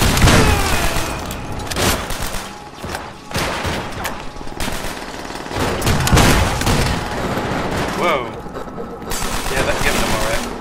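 Heavy World War II combat in Call of Duty: World at War, with rapid bursts of rifle and machine-gun fire and booming grenade blasts, loud and close, under intermittent shouted voices from the game and players.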